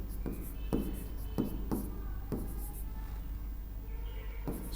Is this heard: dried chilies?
no